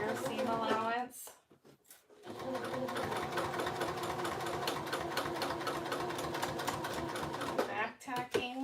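A sewing machine stitches a fabric pouch seam with a quick steady mechanical whir, stopping briefly for a back tack and turn before running on, close and loud, with a voice speaking between passes.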